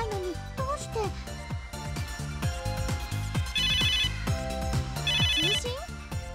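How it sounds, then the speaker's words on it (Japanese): A melodic ringtone from an N-Gear phone in a video game, playing as a steady run of bright chiming tones over a music bed, with repeated high trill bursts. "これ、私のNギアの着信音です。"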